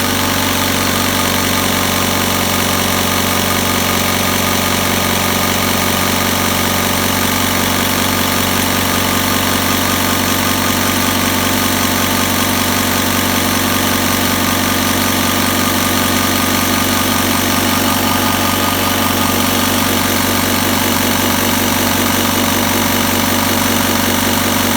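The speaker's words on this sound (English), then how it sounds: "The pump works as well." The air compressor pump on a Schumacher 1200 amp jump starter runs steadily, giving a loud, close, continuous mechanical drone with fine vibration that lasts about 25 seconds without any talk.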